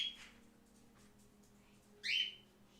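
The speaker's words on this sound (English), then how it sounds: "We'll just give the bird a minute to do the bird thing." A pet bird gives faint, brief whistles and calls indoors, with a short whistle near the start and a louder rising whistle near the end, set against a low steady hum.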